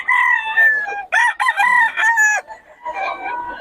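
A rooster crows among gamecocks at a rainy gathering of cockfighting fans, several loud, close, drawn-out crows following one another with only brief gaps and little else in the background.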